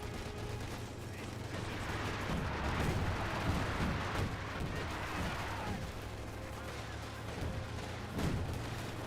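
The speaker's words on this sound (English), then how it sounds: "Nope, that's heavy mortar barrage." A heavy mortar barrage in the Company of Heroes 2 strategy game, a series of muffled booming impacts and rumbling artillery blasts spread over several seconds, fairly quiet and distant under battle noise.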